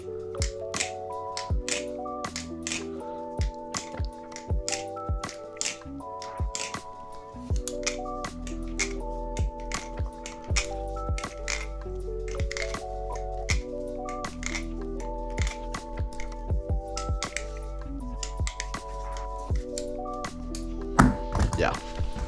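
Rapid metallic clicks and clacks of a Nautilus butterfly knife being flipped, fitted with G10 Spasm scales and Zippy inserts, rattling in quick irregular bursts over a steady low background hum, close and crisp.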